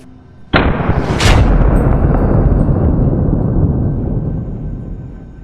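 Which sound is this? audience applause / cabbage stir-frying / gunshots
gunshots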